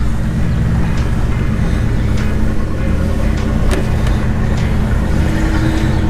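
A 1966 Plymouth Barracuda, kept in very clean condition, drives under its engine's steady, loud low rumble, which stays constant throughout with no one speaking.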